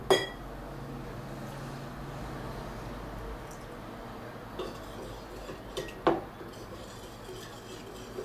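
A spoon stirs about 100 grams of hot water, near 60 degrees, in a glass, with faint swirling under a steady hiss, a clink at the start and a couple more sharp taps against the glass later on.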